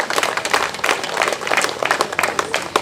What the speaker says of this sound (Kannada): ತಾವೆಲ್ಲರೂ ಕೂಡ ಜೋರಾಗಿ ಒಂದು ಚಪ್ಪಾಳೆ ಬಾರಿಸಬೇಕು